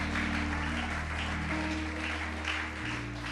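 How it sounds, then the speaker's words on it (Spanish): A church congregation applauding during a sermon in Spanish, a dense, steady wash of clapping over a sustained organ or keyboard chord, filling the room loudly throughout. "Aplaude al Dios que vive"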